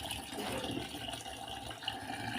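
Goat leg pieces are rinsed in water in a home kitchen, a soft continuous running-water hiss and splash, quiet and steady.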